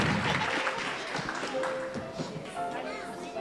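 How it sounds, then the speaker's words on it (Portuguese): Church congregation applauding children during a service: steady, moderately faint clapping mixed with voices and some children's chatter in a reverberant hall. "Se você puder aplaudir com mais, eu acho que as crianças vão ficar."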